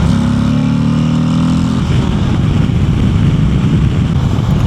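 A 2026 Harley-Davidson Street Glide CVO ST motorcycle accelerates on the road, its engine drone rising at first and then giving way to a loud, rushing roar of engine and wind noise.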